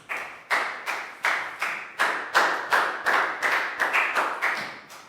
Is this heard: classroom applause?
yes